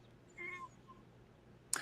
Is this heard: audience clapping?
no